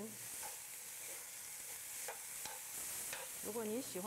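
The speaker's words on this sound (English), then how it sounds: "Keep stirring to make it even, as there's a large amount of shredded potato." Shredded potato strips fry and sizzle in a pan while being stirred, a steady hiss broken by a few scraping spatula strokes, with a brief vocal sound near the end.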